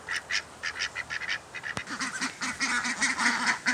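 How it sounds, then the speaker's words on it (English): Little ducks being fed quack and honk in a rapid, busy chorus, close by and fairly loud, with a sharp click midway and no talking. "let's go feed the little ducks"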